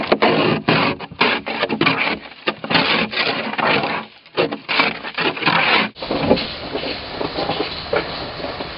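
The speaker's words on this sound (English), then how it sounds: "First thing you got to do is scrape some ice off the windshield here." Ice being scraped off a car windshield during a Georgia snowstorm, heard as a close, rough series of irregular scraping strokes and bursts, with a steadier grinding texture toward the end and no talk.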